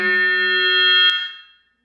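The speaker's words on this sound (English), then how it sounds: "hope that's not a fire alarm." A fire alarm goes off during a talk on faith and genomic research, a steady, loud, multi-tone electronic blare that holds for over a second and then cuts off, its echo fading in the hall.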